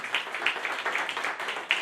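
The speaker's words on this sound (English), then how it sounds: "A big round of applause for our amateur comedians" Comedy-night audience applauds amateur comedians: a short burst of moderate, steady clapping from a small crowd, fairly close, with no talking over it.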